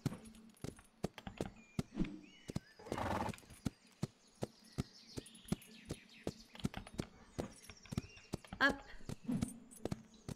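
Horse in a video game gives a clear whinny among sharp, regular clip-clop hoofbeats that tap steadily across the scene, close and distinct against a quiet background.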